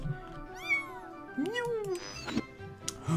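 Cat meows from a cat mini-game in the video game Jazzpunk, several distinct rising and falling calls in quick succession, close and clear, with faint voice sounds between them.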